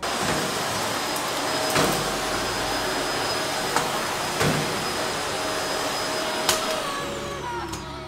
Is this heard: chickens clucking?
no